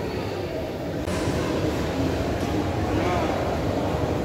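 A metro train rumbles through an underground station in Kolkata with a steady loud roar and some metallic screeching, filling the whole space.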